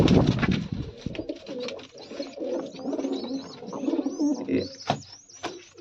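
Pigeons coo and murmur close by in soft repeated bursts, with scattered wing flutters and light shuffling.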